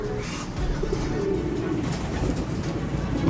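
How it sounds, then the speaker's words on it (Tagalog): Pigeons in a Filipino pigeon loft give low, rolling coos under a steady background hum, several birds overlapping continuously close by. "Mga kalapati natin dito."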